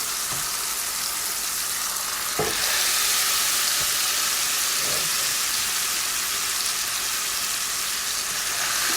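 Steak searing over medium-high heat in a cast iron pan gives a loud, steady hiss and crackle that runs the whole time, with a few faint knocks mixed in and no talk.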